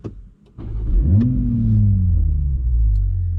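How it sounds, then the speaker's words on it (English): A 2021 Toyota GR Supra engine cranks and fires up, a short starter whir followed by a rising revving flare that settles into a steady deep idle, close and loud with no talk. "So let me start up the car first."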